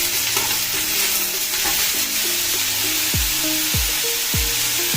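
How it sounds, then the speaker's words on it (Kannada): Chopped snake gourd stirred in a hot pan for gojju, with a steady sizzle and repeated scraping strokes of the spoon against the pan, close and alone. "ನಾವೀಗ ಪಡವಲಕಾಯಿ ಕಟ್ ಮಾಡಿ ಇಟ್ಕೊಂಡಿರೋದನ್ನ ಹಾಕೋಣ. ಒಂದು ನಿಮಿಷ ಹಾಗೆನೆ ಮಿಕ್ಸ್ ಮಾಡ್ಕೊಳ್ಳೋಣ."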